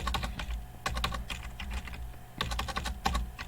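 Rapid bursts of keystrokes on a computer keyboard while code is entered for a Godot game, clustered clicks separated by short pauses, close and clear.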